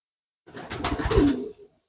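A single soft, low cooing call from a wood pigeon, close and brief, standing alone against silence.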